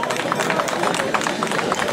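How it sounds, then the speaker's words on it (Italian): Crowd applause at a goat show prize-giving in Valgoglio, brisk dense clapping mixed with murmuring voices and general hubbub, fairly loud and sustained throughout. "un applauso, grazie."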